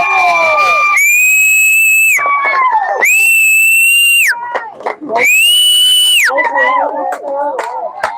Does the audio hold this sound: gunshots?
no